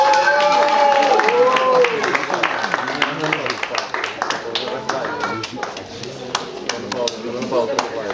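Spectators clap at an award ceremony for the Ukrainian aquabike championship in Nova Kakhovka. The applause is a brisk, close patter of many hands that runs alongside a speaking voice and fades slightly toward the end.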